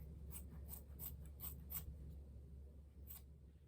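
Scissors snip through hair in a self-trim at home, a quick run of about five crisp close cuts in a row, then a pause and one more snip, faint over a low steady hum.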